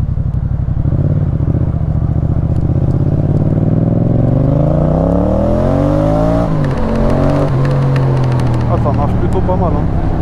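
A 2019 Yamaha MT-07 motorcycle engine idles, then revs up steadily, its pitch climbing as it accelerates, loud and close, before dropping and settling into a rougher rumble.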